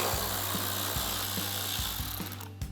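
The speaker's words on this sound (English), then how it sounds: "take a 7mm socket to remove the screw" A power tool with a 7mm socket spins out a license plate light screw on a 2020-2026 Sierra 2500, a steady close whir with soft rhythmic clicks repeating about twice per second.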